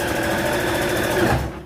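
A sewing machine runs steadily, stitching along the slit edge of a churidar, its rapid mechanical whir continuous and close for nearly two seconds before trailing off at the end.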